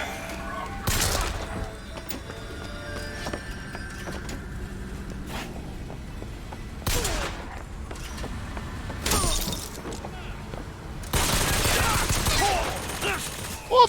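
Sporadic bursts of gunfire in the video game BioShock Infinite, shooting at a machine, break out in separate volleys, with quieter stretches between and a longer, heavier burst near the end.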